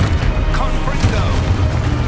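Confringo blasting-curse explosions in Hogwarts Legacy, a dense run of game spell blasts and booming impacts layered over steady background rumble, with a few sharper cracks standing out.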